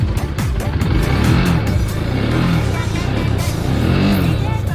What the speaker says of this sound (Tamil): ஃபுல்லாக ரேஸ் பண்ணும்போது பார்த்தீங்கன்னா சவுண்ட் எல்லாம் ஓகே